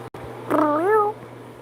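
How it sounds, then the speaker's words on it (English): A cat gives a single clear, drawn-out meow close by, rising and falling in pitch for about half a second over a quiet indoor hum, with a soft click just before it. "Kitty, kitty, kitty, kitty. Meow, meow."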